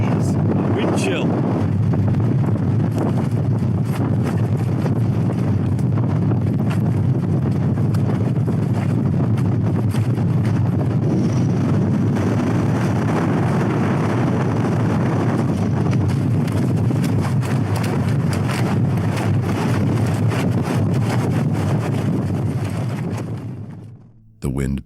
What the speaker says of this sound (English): The wind begins to pick up, growing stronger with every passing moment.